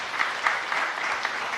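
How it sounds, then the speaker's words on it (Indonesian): Congregation clapping at an Indonesian church service, a brief burst of dense steady applause from a crowd. "Yang mau tepuk tangan yang meriah bagi Tuhan Yesus."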